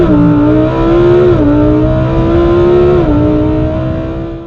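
A naturally aspirated V10 engine in a Lamborghini Huracan revs loudly and up close, a rich droning tone that dips and climbs twice before fading slightly at the end.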